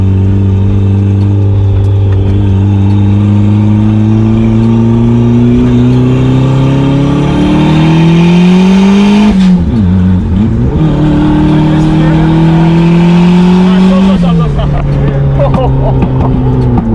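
A Nissan 350Z sports car engine drones loud and close, its pitch climbing steadily before a missed gear shift sends it flaring and dipping, then settling back into a sustained roar.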